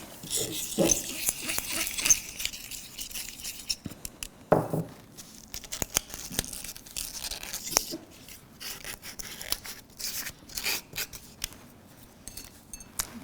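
Tree bark being handled at an art workshop gives scattered dry scratches, crackles and rustles, close and fairly soft, arriving in irregular bursts with short quiet gaps.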